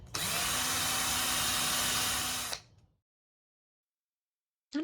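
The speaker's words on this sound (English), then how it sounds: "this Craftsman electric screwdriver is kind of driving me nuts" Craftsman electric screwdriver driving screws into a wooden crate lid, one close, steady motor whir lasting about two and a half seconds, then cutting off into silence, with a brief burst at the very end.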